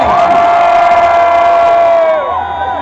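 A large crowd at a Brazilian hip hop concert shouts and cheers loudly in one sustained roar, with a held vocal tone riding on top that fades near the end.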